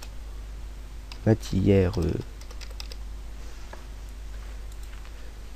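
Rapid typing on a computer keyboard, a short burst of quick clicks close by, with a few words spoken over a quiet background hum.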